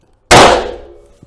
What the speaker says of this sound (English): We would need to do a silencer test to just see one shot with this silencer